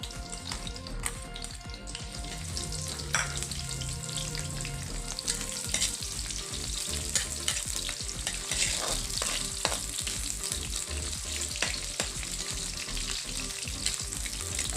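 Pork and pancit canton guisado ingredients sizzle steadily in a hot pan until golden brown, with dense crackling and frequent stirring scrapes throughout, close and continuous with no talking.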